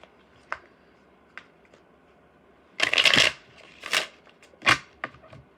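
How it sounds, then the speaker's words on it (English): Tarot cards being shuffled by hand, a few light taps followed by several crisp riffling bursts, close and clear with no talking. "I'm going to shuffle this one."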